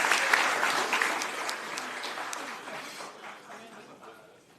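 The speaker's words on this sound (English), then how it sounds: "Let's give them a big round of applause." Applause from the audience at a county board of commissioners meeting starts fairly strong, then thins out and fades to a few scattered claps over about four seconds.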